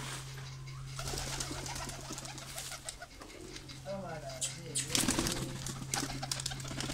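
Pigeons at a rooftop loft coo in soft, repeated low calls amid steady background noise, with a constant low hum running throughout.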